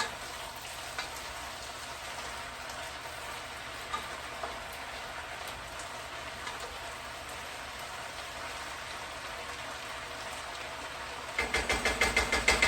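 Mushrooms and onions fry in a pan with a steady, even sizzle that runs throughout, growing into louder, crackling spatter in the last second or so.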